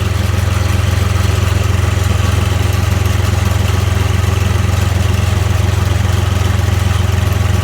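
A Case IH tractor engine runs steadily in cold conditions while its loader lifts slowly, giving a loud, continuous low rumble with an even throb and no pauses.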